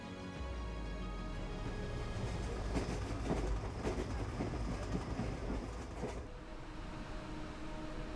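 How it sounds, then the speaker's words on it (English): A train running on the Trans-Siberian Railway along the southern shore of a frozen Siberian lake, heard as a steady rolling rumble with rhythmic clickety-clack of wagons passing at moderate distance, sustained throughout without voices. "It is the sound of a train passing along the southern shore, running on the Trans-Siberian Railway"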